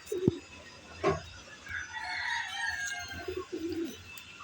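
Racing pigeons landing at a loft after an 81 km race to Cabanatuan, with soft wing flaps and brief bird calls, a distant rooster crowing, and faint background chatter, all fairly quiet.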